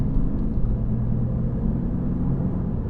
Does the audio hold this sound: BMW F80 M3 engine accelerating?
yes